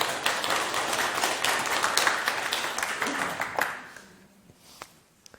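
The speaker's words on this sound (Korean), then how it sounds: "박수 한번 치세요" An audience at a Korean lecture session claps together, a dense, steady burst of applause that fades out toward the end, leaving a few scattered claps.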